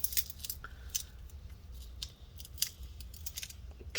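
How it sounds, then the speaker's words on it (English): Plastic layer being peeled off the underside of a replacement battery for a 15-inch Retina MacBook Pro Mid 2014 A1398, giving quiet crinkling and snappy ticks in short bursts, close up and with no voices. "there's this more solid plastic layer on the bottom. We're gonna have to peel that off. So just go underneath and peel this up."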